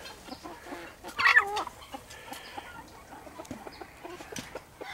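Backyard chickens cluck and murmur close by while waiting to be fed corn, with one louder squawking call standing out early among the soft, scattered clucks.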